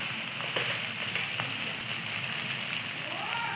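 Spice paste of ginger, green chilli, turmeric, coriander and chilli powder sizzles in a pan for paneer bhurji, a dense, steady crackling hiss with a few sharper pops throughout.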